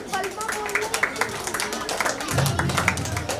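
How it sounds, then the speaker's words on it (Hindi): Audience applause at a school award ceremony honoring students with medals and trophies, steady clapping from a crowd under continuous talking over a loudspeaker. "आप लोग जोरदार तालियां"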